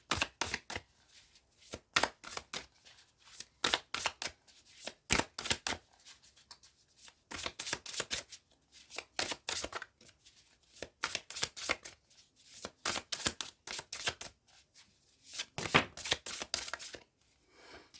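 A deck of oracle cards is handled, turned and arranged, giving repeated crisp riffling and flicking bursts in quick clusters with short pauses between, close up and with no talking.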